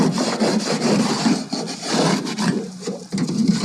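A scraper rasps across a beehive board, clearing off hive debris in repeated close scraping strokes with brief pauses between them.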